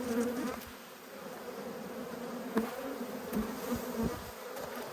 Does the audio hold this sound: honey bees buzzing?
yes